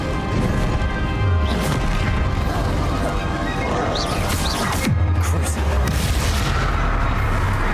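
Explosions from the Bombarda spell in the video game Hogwarts Legacy: heavy crashing booms and smashes amid continuous loud battle noise, with a couple of sharp impacts standing out.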